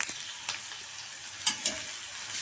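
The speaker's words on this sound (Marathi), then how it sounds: "कांदा आणि हिरवी मिरची कट केलेली हे दोन्ही मी एकदम टाकले आहे त्याला छान असं फ्राय करून घ्यायचं आहे" Chopped onion and green chili fry in hot oil with cumin seeds, giving a steady close sizzle broken by a few brief spatters and stirring scrapes.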